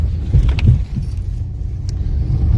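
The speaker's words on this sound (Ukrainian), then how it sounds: "Їдемо коротше, по таких дорогах." Pickup truck driving on rough roads in Ukraine, heard from inside the cab as a loud low rumble with bumps and rattling jolts and light jingling over it, no talk.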